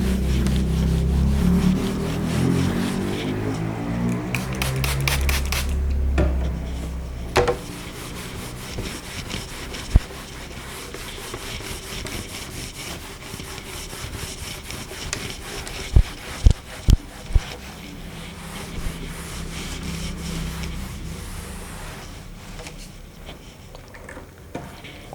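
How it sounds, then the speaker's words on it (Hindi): Brisk rhythmic rubbing as writing is wiped off a classroom board, a scrubbing stroke pattern near the start followed by quieter scraping and a few sharp knocks, close and alone. "इसको रब कर देते हैं।"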